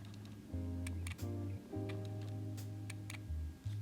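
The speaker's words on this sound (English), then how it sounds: "This is what the camera sounds like with the sound turned off." An X100F camera with its shutter sound turned off still gives faint ticking clicks over a low buzzing hum of the focusing lens, quiet and close, with no voices.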